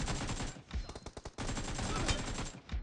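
AKM assault rifle fired from the hip in PUBG Mobile, rapid automatic bursts in quick succession with a short gap of separate shots midway, loud and close, no talking.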